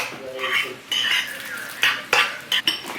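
A utensil mixes chia seeds in a bowl, close and clear, with repeated clinks and scrapes against the dish. The scraping comes in uneven bursts, with no talking.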